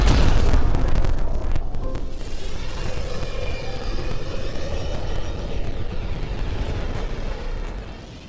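The Tempest spaceship departing from the Nexus in the Mass Effect Andromeda video game, a loud rushing engine boom at the start that settles into a sustained, whooshing roar and fades near the end.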